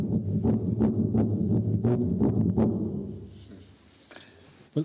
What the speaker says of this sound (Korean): It's a friction drum.